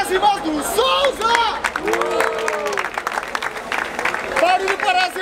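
A crowd at a rap battle in Barueri, São Paulo cheers and whoops for a rapper, with scattered applause and excited shouting running throughout.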